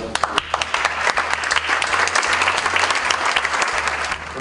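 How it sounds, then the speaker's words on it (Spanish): Sustained applause from a graduation ceremony audience honoring the students' parents, dense and steady clapping throughout with crowd noise and no talk over it. "Yo quisiera que, ahora sí que nosotros y los alumnos les diéramos un gran aplauso"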